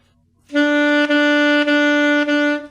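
Repeated saxophone notes on the same pitch, tongued with a "do" syllable: four sustained notes with brief, soft re-articulations between them, played up close at a strong, even volume with no speech.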